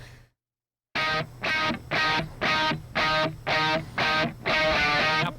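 A distorted electric guitar repeats one octave note in eight evenly spaced, sustained strikes after a short silence.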